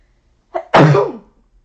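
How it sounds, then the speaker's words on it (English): A single close, loud human sneeze with a short sharp intake breath just before it, followed by a forceful burst that tails off, in an otherwise quiet room. "Always make sure you vampire sneeze, especially in this economy."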